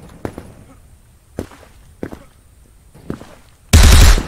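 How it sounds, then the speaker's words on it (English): Shotgun blasts in the video game Krunker, four sharp separated booms spaced about a second apart, followed by a sudden loud burst of noise at the end. "The shotgun."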